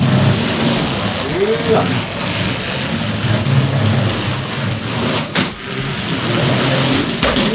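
A DJI RoboMaster S1 robot fitted with the PlayMore Kit drives forward at high speed, its motors giving a steady, close whirring drone while a man briefly exclaims.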